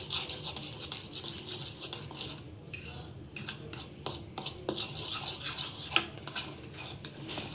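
Oreo biscuit cake batter is stirred with milk in a bowl, a steady close scraping and clinking of a spoon against the dish with quick rhythmic strokes, moderately loud, no talk.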